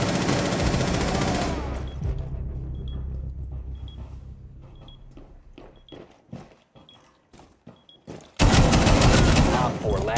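Gunfire in a first-person shooter game, dense rapid bursts and rumbling explosions at the start and again loudly at the end, with sparse scattered shots and footsteps between and faint talk.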